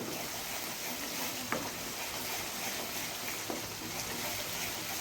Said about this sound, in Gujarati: આવી રીતે આપણી ડુંગળી પણ સતળાઈ ગઈ છે